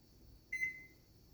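An oven timer gives a single short electronic beep, faint and clean against a quiet kitchen background.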